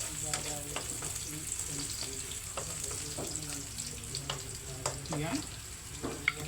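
Garlic and onion sautéing in a pan give a steady close sizzle, broken by repeated stirring scrapes and taps throughout, with a brief spoken word.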